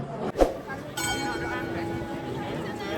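Bells ring out in Prague, a sustained tonal chime that sets in after a brief knock and carries on under people talking nearby.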